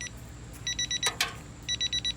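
An alarm clock at an outdoor campsite in a state park beeps in quick bursts of four short tones, heard twice with a pause between, plus a couple of sharp clicks amid quiet outdoor background.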